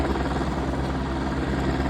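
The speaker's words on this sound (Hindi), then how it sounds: "वो हेलीकॉप्टर रेडी हो चुका जाने के लिए" A helicopter sits ready for departure at the Kedarnath helipad, its rotor and engine producing a steady, continuous droning whir at moderate distance.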